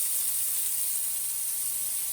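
A steak burger sizzles on a stovetop, giving a steady, bright hiss that holds evenly with no one speaking.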